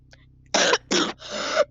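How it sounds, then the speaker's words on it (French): A person gives three harsh, close coughs in quick succession, the last one longer and rasping, with no talking over them. "C'est bon, j'ai arrêté de tousser."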